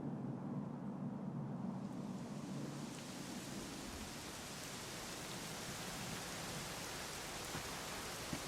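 Steady rain in Dragon Quest XI falls in a continuous, dense hiss with no other sounds above it.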